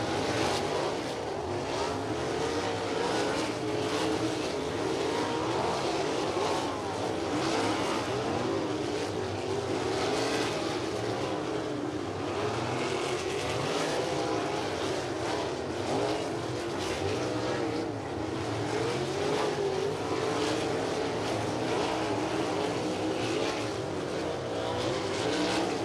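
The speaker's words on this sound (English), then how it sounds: "as they will roll into the throttle. We'll get underway here with Dirt Drive Hot Lap session number 1" Several USAC sprint cars run hot laps on a dirt oval at Lincoln Park Speedway, their engines roaring and blending in a continuous loud drone for the whole stretch, with no clear pauses and no talk over them.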